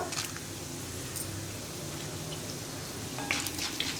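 Urad dal fries in hot oil with mustard seeds that have nearly finished spluttering, a soft continuous sizzle with a few faint pops and clinks near the end, no voices.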